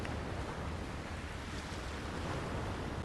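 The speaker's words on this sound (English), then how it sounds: "The waves are crashing a bit more." Ocean waves in the video game Subnautica roll and crash as a steady, dense wash of surf noise, with a windy hiss over the full clip and no voices.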